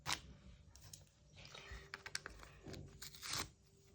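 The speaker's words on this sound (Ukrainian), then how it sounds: "Дуже гарний пакетик був, який тільки що порвала" Close, quiet rips and crinkles of a paper packet being torn open, with scattered crackling bursts.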